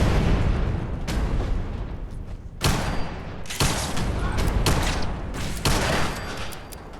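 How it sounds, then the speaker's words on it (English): Protectrons fire quantum rockets in Fallout 4, sending out repeated heavy blasts and booming impacts in quick succession over a noisy, chaotic background. "apparently the Protectrons have access to quantum rockets"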